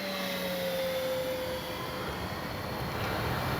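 Kavan Bristell B23 RC model airplane makes a full-speed pass, its motor a steady high whine that slides down in pitch as it goes by, fairly loud and alone.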